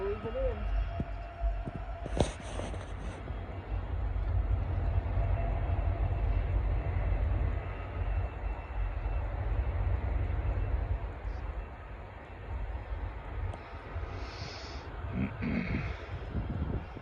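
A distant train rolls past at dusk during a near-total solar eclipse, a low, steady rumble that sustains throughout, with faint higher tones and brief voices nearby.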